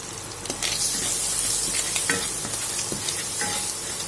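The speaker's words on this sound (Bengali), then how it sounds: "মশলা যতক্ষণ না কাঁচা গন্ধটা যাবে সেটাকে আমরা এইভাবে নাড়িয়ে নেব।" Ground spices (coriander, red chili powder, turmeric, garam masala and salt) fry in a pan with a steady close sizzle, broken by repeated scraping strokes of a spoon stirring the mixture.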